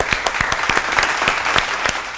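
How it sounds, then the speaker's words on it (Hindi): A studio audience applauds a guest taking the podium on a quiz show, a brief burst of loud, close clapping with distinct individual claps standing out. "एक दफा जोरदार तालियां कासिम शाह साहब के लिए"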